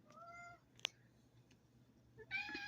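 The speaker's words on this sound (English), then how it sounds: "like this feral cat I'm taking care of is talking to me." A feral cat outdoors in the snow gives a few thin, rising meows close by, and a longer meow comes near the end over a quiet background with a soft click.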